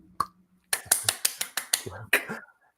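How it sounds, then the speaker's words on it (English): Sharp hand claps, about eight in a quick even run, loud and close, following a brief low hum and a single earlier clap, during a casual wrestling-news chat. "I just like the way you clapped there."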